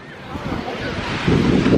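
Ocean surf washes steadily onto a beach with heavy wind buffeting the microphone, growing louder and rougher toward the end; no clear speech.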